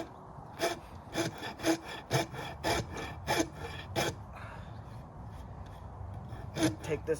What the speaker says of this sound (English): I'm going to use my Shinto rasp here to